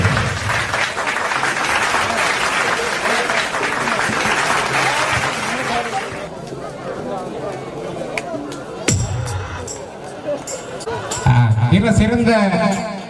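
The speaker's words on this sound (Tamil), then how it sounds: "கைத்தட்டுங்க உங்கள் கரகோசையில்" An audience applauds at a lifetime achievement award ceremony held by a Mumbai comedy association. Dense clapping fills the room for several seconds, then thins out as voices and crowd murmur take over.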